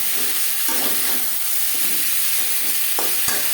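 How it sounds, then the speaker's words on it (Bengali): Potatoes and spices with ginger paste and green chilli paste fry in a pan with a steady sizzle, while a spoon stirs and scrapes through them in repeated strokes, close and unbroken, with no voice. "আলুর সাথে মশলা বেশ ভালো করে মিক্স করে দেবো"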